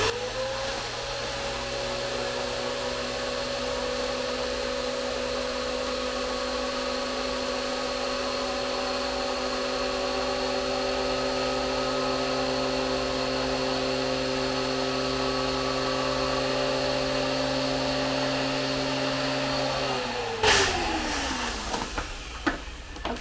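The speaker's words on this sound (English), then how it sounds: "So we will now try the vacuum cleaner." A vacuum cleaner draws air out of a storage bag packed with products, humming loudly and steadily with a tonal whine for about twenty seconds before the motor winds down and stops, followed by faint rustling.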